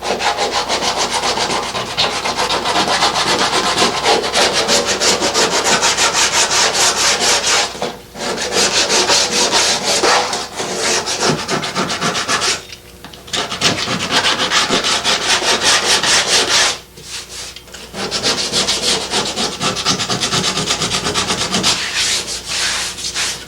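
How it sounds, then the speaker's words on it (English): Sandpaper is rubbed by hand over a car body repair in a continuous rhythmic scratch, loud and close, with brief pauses near 8, 13 and 17 seconds, and no voices. "get some sandpaper by hand and redo this groove right here."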